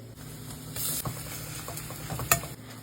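Chopped garlic and ginger sizzling in a wok while cooking dry chilli paneer: a steady close frying hiss with a few stirring scrapes and clinks, no talking.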